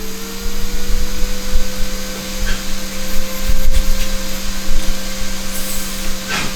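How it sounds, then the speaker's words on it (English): A cooling fan runs at a phone repair bench during an A54 board repair, a loud steady whirring hum with a constant drone throughout and no talk. "I'm gonna turn the fan on real quick"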